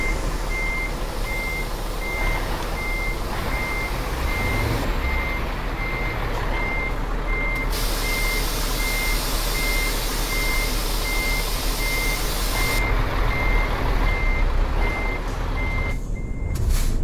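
A truck's reversing alarm in Euro Truck Simulator 2 gives a steady, evenly spaced run of high beeps over a constant engine and road drone, with no talk.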